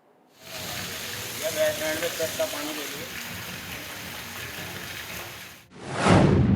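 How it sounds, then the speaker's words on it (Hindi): Continuous rain and rushing water on flooded streets in Uttar Pradesh make a steady hiss, with brief murmured voices in the middle and a sharp whoosh at the end. "यूपी के कई इलाकों में बीते 3 दिनों से लगातार बारिश हो रही है"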